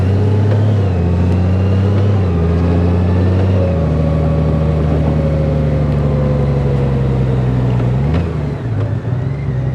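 Exhaust drone of a 2021 Honda Gold Wing DCT motorcycle while riding, a steady loud engine hum with gear-shift steps in pitch, constant and close throughout.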